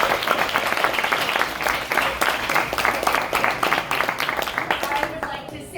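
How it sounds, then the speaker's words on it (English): Sustained applause and clapping from a seated crowd honoring seniors at a debate team banquet, dense and fairly loud, steady throughout before tapering at the end, with some voices mixed into the noise. "One more round of applause for our seniors."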